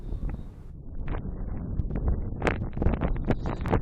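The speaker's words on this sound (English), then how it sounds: "it's windy, I understand" Gusty wind buffets an outdoor microphone at a tented camp in the Maasai Mara game reserve, uneven thumps and rumbling bursts close to the mic, strengthening toward the end.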